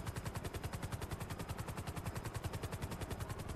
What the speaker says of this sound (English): Let me lose the cops and I'll shoot the helicopter.